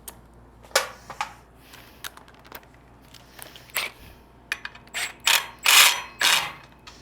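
A ratchet tightens a nut and bolt with a lock washer on a trailer, giving quick bursts of clicking pawl strokes that grow louder and faster toward the end, close by with no talk.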